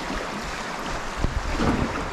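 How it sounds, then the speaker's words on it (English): A river flows in Alaska on a calm morning, a steady, close rushing wash of water without talk. "Not a sound other than the river."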